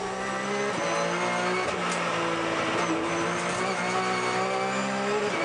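Racing cars run at the Goodwood Festival, their engines loud and continuous, a dense roar of revving and passing motors with a few sharper accents and no talk over it.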